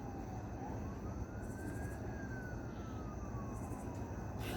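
Faint distant sirens wail in slow rising and falling sweeps, layered over a steady low rumble of background traffic, continuous with no talk.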